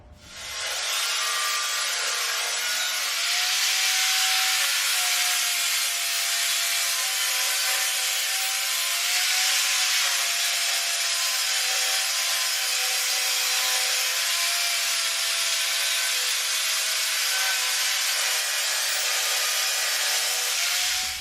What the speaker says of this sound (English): let's get those welds grinded down and check it out